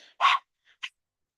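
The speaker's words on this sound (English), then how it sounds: "panting like a dog, like Nelly here" A dog pants in a quiet room during a morning kundalini yoga class: one short, breathy, fairly loud huff followed by a fainter, quicker second huff, close by and with no talking.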